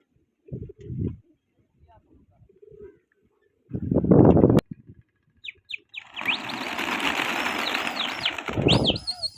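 Trained pigeons burst into flight with a loud, sustained flurry of flapping wings, preceded by short bursts of sound and voices, with people talking and birds cooing around the flock.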